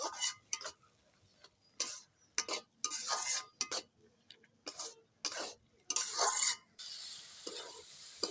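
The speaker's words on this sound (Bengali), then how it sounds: "মশলার সাথে আলুটা খুব ভালোভাবে কষে নেব" Potatoes are stir-fried with hot spices in a pan for a red poa fish and tomato dish, heard as repeated close scraping and stirring strokes in uneven bursts, with a faint sizzle between them.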